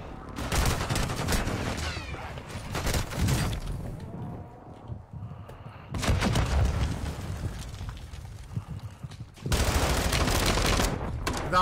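Bursts of video game gunfire in a shooter with a sniper and grenade launcher, three dense loud volleys of rapid shots separated by quieter gaps with scattered single reports.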